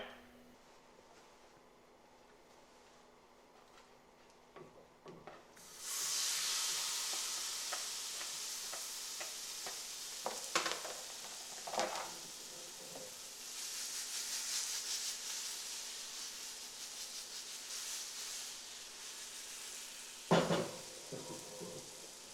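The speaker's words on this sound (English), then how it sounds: "now that we have finished frying our banana delight surprise" A steady loud sizzle of bananas frying in a pan starts suddenly and keeps hissing, with occasional scrapes and clinks of stirring.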